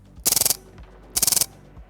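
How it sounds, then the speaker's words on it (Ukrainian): Two quick bursts of full-auto fire from an Optima Blitz PCP air rifle, each a tight string of about seven sharp pops, separated by a short pause. "зброя буде стріляти чергами"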